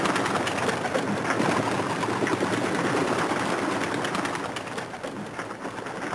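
Pigeons coo in soft, repeated low calls under a steady, busy background murmur, continuous throughout and moderately close.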